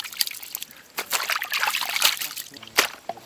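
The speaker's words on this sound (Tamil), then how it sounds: "தண்ணி ஊத்து தண்ணி ஊத்து" Water is poured while prawn masala pasta cooks in an outdoor village kitchen, a trickling and splashing stream in several short bursts, close by, with voices talking over it.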